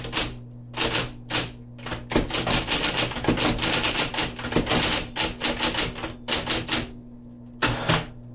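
1970s Smith-Corona Electra 220 electric typewriter with power return being typed on continuously, dense rapid key strikes with short pauses, close and loud, over a steady motor hum, no talking.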